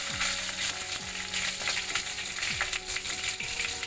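Cumin seeds, dried fenugreek leaves and curry leaves sizzle in hot oil for an aloo tamatar sabzi, a close, steady crackling fry with small pops and the light scrape of stirring, no voices.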